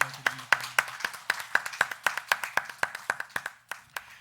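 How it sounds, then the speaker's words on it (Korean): A church congregation claps together in a steady, even rhythm, roughly four claps per second, close and crisp over a low sustained organ or keyboard tone, with no talking. "우리 하나님께 감사와 영광의 박수를 올려드립니다."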